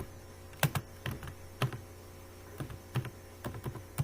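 C++ code being typed on a computer keyboard: irregular, close, crisp key clicks in small clusters with brief pauses between them, and no talking.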